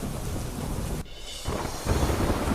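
Heavy downpour over fields in Botad district, Gujarat, a steady loud roar of rain that briefly drops away before returning even stronger.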